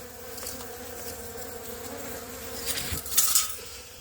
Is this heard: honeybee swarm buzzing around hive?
yes